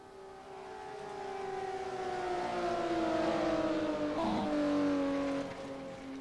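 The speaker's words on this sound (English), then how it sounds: "drifting the car there nicely" A Porsche race car engine in a sim racing game holds a steady high whine that slowly falls in pitch, with a brief burst of tire noise midway before the drone settles again, loud and alone.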